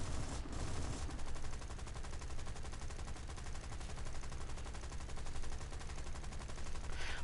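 Aircraft cannons fire in a flight combat video game, a long rapid burst of evenly spaced shots that holds for several seconds over engine drone, with no talking.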